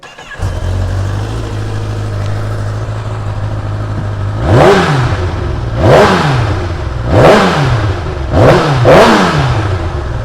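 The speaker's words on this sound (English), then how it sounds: "We'll give it a fire up so you can hear it." A 2012 Kawasaki ZX10R sportbike with 26,588 miles fires up and settles into a steady, loud idle, then is blipped through four sharp, rising-and-falling revs close by, with no talking.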